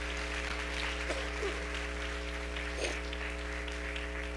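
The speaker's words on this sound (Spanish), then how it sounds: "Denle una ofrenda de palmas al Rey de Reyes." A church congregation gives faint, distant applause as a steady soft patter, under a constant low electrical hum.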